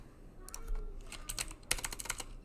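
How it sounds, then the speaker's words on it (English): Typing on a computer keyboard: a quick, irregular run of crisp key clicks in short bursts, close and moderately loud over a quiet room background. "I'm going to type in"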